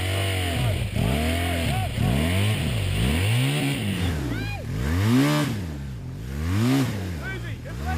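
A BMW motorcycle engine revs repeatedly in rising and falling sweeps as the clutch is let out, loud and close at an outdoor riding event, with people talking over it.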